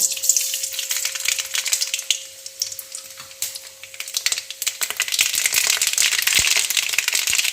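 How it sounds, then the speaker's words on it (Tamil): Spinach (palak) sizzles steadily in a hot pan, a continuous bright crackle with small pops and scraping stirs throughout, close and fairly loud. "கீரை நம்ம இதை வதக்க ஆரம்பிக்கலாமாங்க"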